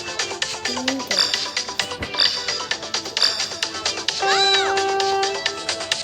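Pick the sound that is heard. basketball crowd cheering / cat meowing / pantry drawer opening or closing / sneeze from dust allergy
cat meowing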